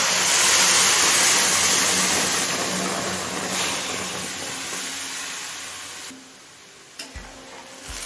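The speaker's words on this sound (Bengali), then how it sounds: "এবার দিয়ে দিচ্ছি গরম জল" Hot water pours into a pan of frying neem leaves and vegetables, sending up a loud rushing sizzle that gradually fades, followed by a few knocks of a spoon against the pan.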